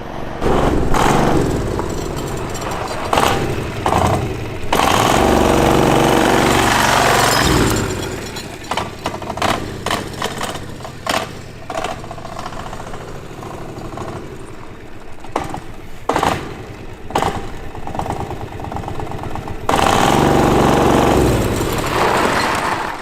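Chinese-made diesel V-twin engine on a go-kart, revving hard in loud bursts with uneven throttle, dropping to choppy lower running in the middle and surging again near the end as it pulls small wheelies.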